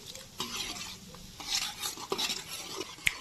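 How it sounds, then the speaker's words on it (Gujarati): Chopped onions sauté in hot oil in a pan for a Gujarati drumstick curry, giving a soft continuous sizzle with scattered utensil scrapes and stirring clinks and one sharp metallic tap near the end. "તેલમાં આપણે ડુંગળીને પહેલાં સાતળી લઈએ"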